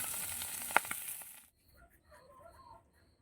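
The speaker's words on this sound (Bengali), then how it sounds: "সেই মাছগুলো ভেজে রাখা ছিল আর একটু ভেজে নিচ্ছি" Karti fish fries in a pan with a bright, hissing sizzle and one sharp clack for about a second and a half, then cuts off to near silence with faint chirps.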